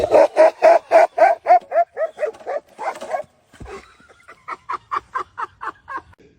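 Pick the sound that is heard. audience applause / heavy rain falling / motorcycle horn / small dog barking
small dog barking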